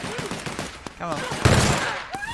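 Gunfire in the video game The Outer Worlds: a few sharp shots and a louder burst midway, with chirping effects and a voice speaking around them.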